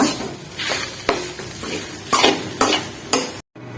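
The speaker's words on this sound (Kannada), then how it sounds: "ಇದನ್ನೆಲ್ಲ ಚೆನ್ನಾಗಿ ಸ್ವಲ್ಪ ಫ್ರೈ ಮಾಡ್ಕೊಂಡು ತುಪ್ಪದೊಳಗ ಕೊಬ್ಬರಿಗೂ ಸ್ವಲ್ಪ ಹಸಿ ವಾಸನೆ ಹೋಗ್ಬೇಕು" Grated coconut fries in ghee while a spoon stirs it in a pan for coconut modak, a continuous sizzle punctuated by about five sharp, rhythmic scrapes and clinks before a sudden cut to silence.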